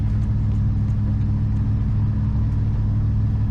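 A 1980 Ford F-350 service truck cruising down the road, heard from inside the cab as a loud, steady low engine drone and road rumble with no pauses.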